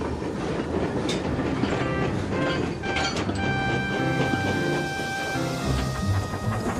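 Toy train engines pull away along a track, a steady clickety-clack of wheels with metallic ringing and squeal tones building over the rolling rumble, fairly close and continuous.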